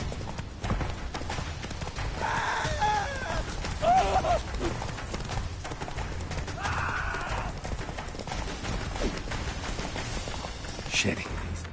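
Roach, a horse in the video game Witcher 3, gallops with rhythmic hoof clip-clop and a whinny, under a steady game score and bursts of voices.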